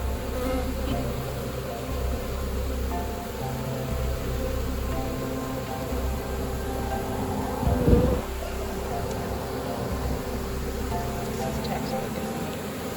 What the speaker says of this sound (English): With so many bees, they had so many scouts to send out